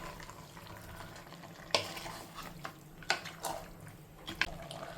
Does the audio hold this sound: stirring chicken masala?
yes